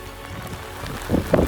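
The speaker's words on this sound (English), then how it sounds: "It just started raining sideways and it's super windy" Wind-driven rain near the top of Bigelow Mountain in Maine patters and hisses against the microphone amid gusty buffeting, growing louder toward the end with irregular close spatters.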